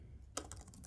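Keys clack on a computer keyboard in a quick run of light taps, close and clear, with no talking.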